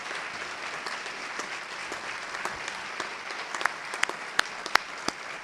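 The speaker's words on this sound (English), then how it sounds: "Let's have a really good round of applause for all our awardees and nominations tonight." An audience applauds at a youth service awards program, sustained clapping throughout with a few sharper, closer individual claps standing out near the end.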